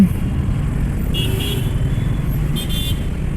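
Cars and motorcycles crawl through a dense Dhaka traffic jam near Gulistan, a loud constant engine rumble broken by two short bursts of horn honking, with no talking.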